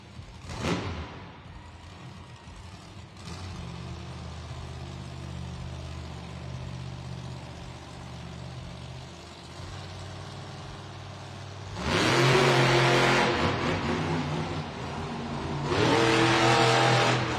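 A monster truck named Vendetta roars around a Monster Jam arena in Las Vegas, its engine holding a steady loud drone before surging into harsh, revving bursts near the end.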